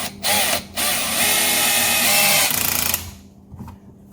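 A power screwdriver drives screws back into a BMW X driver's side interior door panel. Two short whirring bursts are followed by a longer, steady, close motor whine that ends in a rapid ratcheting stutter, with a faint click after it.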